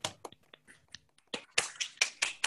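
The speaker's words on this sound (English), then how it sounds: "Let's give some applause to these extraordinary efforts" Sparse, quiet applause from a small scattered group after a student debate final, with a few isolated claps at first that build into a slightly fuller patter toward the end.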